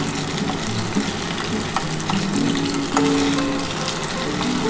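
Paneer cubes frying in hot oil in a pan for dry chili paneer: loud, continuous close-up sizzling and crackling with occasional stirring scrapes, no voices.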